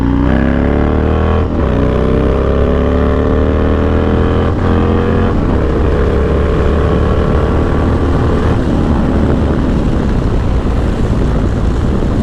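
A Harley-Davidson Dyna FXDX motorcycle rides hard, its engine note climbing through several gears with rising revs broken by shifts, loud and close against steady wind rush.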